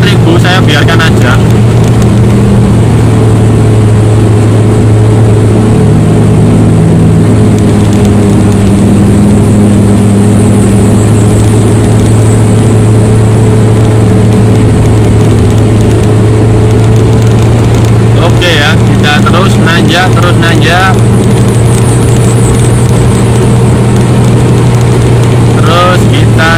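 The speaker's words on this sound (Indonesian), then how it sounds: "Nah ini RPM hampir 4000, saya biarkan aja." A Honda Brio's engine drones steadily near 4000 RPM, loud and close, as the car climbs a steep road from Pacet to Cangar in a convoy. Brief rattles cut in, and voices talk underneath.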